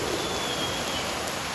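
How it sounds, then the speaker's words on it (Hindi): Heavy rain pours down in a dense, continuous roar with no letup, loud and close, with no voices over it. "अभी चल रही एकदम घमासान बारिश।"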